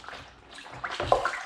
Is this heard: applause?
no